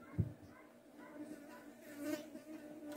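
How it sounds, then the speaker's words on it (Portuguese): Flies buzz faintly and steadily around a plate of crispy fried sardines, a thin insect hum with one brief nearby knock at the start and no talking. "Gente, essas moscas é por causa do peixe"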